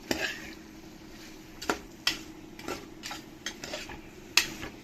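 Mixed vegetables for veg biryani stirred in a pan, a faint background sizzle broken by scattered clinks and scrapes of a spoon against the metal, quiet and nearby.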